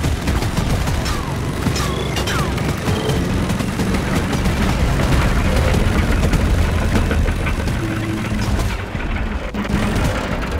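Sustained rapid minigun fire in a video game, a continuous loud roaring burst of shots with heavy low rumble that runs almost unbroken for about nine seconds before briefly dropping off.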